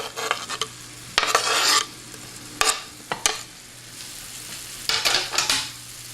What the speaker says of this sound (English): So just give this an occasional stir as it sautés